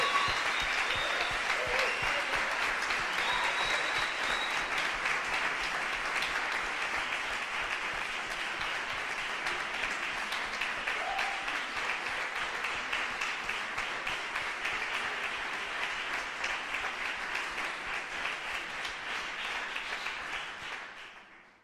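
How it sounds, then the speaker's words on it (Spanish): A large audience at the final round of the Adolphe Sax saxophone quartet competition gives the festival organizers long, sustained, even applause. It holds at a steady level for about twenty seconds, then fades out at the end. "un enorme aplauso para ellos"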